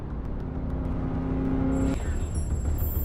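A car drives past in the Safe City UAE police chase game, a steady engine whir and rumble that shifts pitch partway through, with no voices over it.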